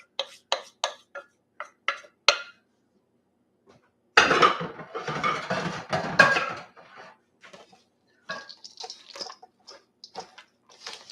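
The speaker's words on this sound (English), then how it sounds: "I'm going to start mixing these into the batter" A spatula works fruit and nuts into stiff white fruitcake batter in a bowl, giving scattered clicks and taps, then a dense burst of scraping and thudding, then lighter intermittent scrapes, with no talking.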